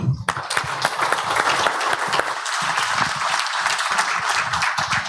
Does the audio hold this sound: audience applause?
yes